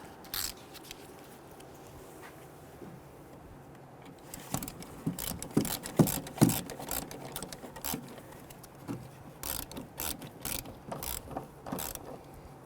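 A hand ratchet tightens the shock absorber nuts on a 2008-2013 Infiniti G37: quiet background at first, then rapid bursts of sharp clicking and metallic ratcheting from mid-clip onward, close and fairly loud.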